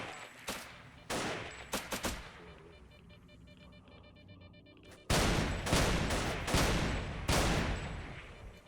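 Shotgun blasts from the video game Fate of the Zone: a few sharp reports early on, a quieter lull, then a louder run of heavy booming shots in quick succession near the end.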